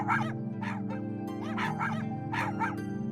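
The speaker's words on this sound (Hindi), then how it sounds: "भौंक क्यों रहा है तू?" A cartoon dog in an animated Hindi moral story barks and yips repeatedly in short, rhythmic bursts, close and clear over a steady low musical hum.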